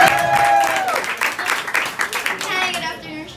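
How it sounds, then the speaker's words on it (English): Audience applauding at a live wrestling fan talk event, a burst of clapping that builds and then thins out, with a voice speaking over it. "Give her a round of applause"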